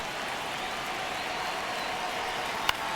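Crowd noise from a ballpark in the baseball video game MLB The Show 26, a steady, dense roar of cheering that holds at an even level throughout, with one brief sharp click near the end.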